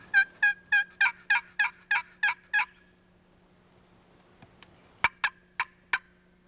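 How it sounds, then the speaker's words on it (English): A turkey call in the woods gives a rapid run of eight clipped, rhythmic notes, then after a pause a loud snap and a few more sharp calls, fairly close and clear with a low background hum. "if you hear a lot of gobbling around, those turkeys don't go anywhere"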